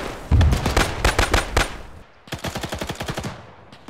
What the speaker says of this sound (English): The Germans are firing rifle grenades.